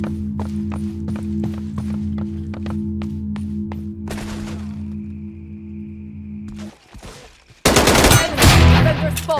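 Rapid gunfire in the mobile shooter Valorant Mobile, a steady rhythmic string of shots over game ambience, then a brief lull and a loud, dense burst of firing near the end.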